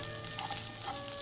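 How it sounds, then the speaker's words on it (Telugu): Onions sizzle and fry in a teaspoon of oil in a hot pan, a steady close crackle with a brief sharper pop at the end and no talking. "1 టీ స్పూన్ ఆయిల్ వేసేసి జస్ట్ ఆనియన్స్ రోస్ట్ చేసుకోవడానికి"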